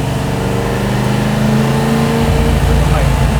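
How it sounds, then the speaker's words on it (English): A road-going race car, likened to a Porsche 962, has an engine that growls loud and close, holding a low, rough drone before its pitch climbs as it accelerates on the street. "This is a pure race car"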